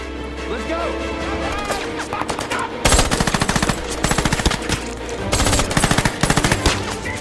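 Rapid machine gun bursts from soldiers in a war film crackle loudly and repeatedly in clustered volleys over a constant background rumble, with sharp impacts between bursts.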